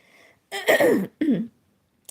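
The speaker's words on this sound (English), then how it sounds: "Sorry guys, I have like a hay fever cough." Two close, harsh hay fever coughs ring out one after another in a quiet room, followed by a tiny click.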